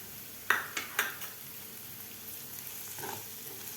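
Dal with crushed roasted peanuts is stirred in a pan, a quiet sizzle underneath a few sharp scrapes and clinks of a spoon against the metal, two early ones louder and one fainter later.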